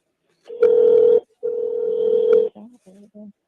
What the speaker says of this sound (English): He on the phone. I can hear it ringing double.